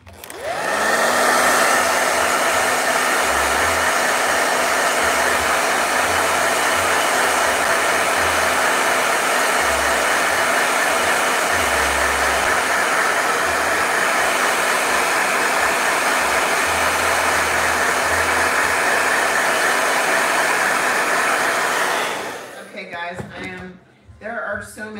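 A hair dryer runs loud and close with a steady whooshing roar for about twenty-two seconds, then cuts off abruptly, leaving faint room noise and brief handling sounds.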